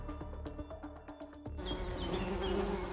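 Honeybee workers buzzing as they leave a hive for a pollen source, a steady insect drone that grows louder and denser partway through, with faint background chirps.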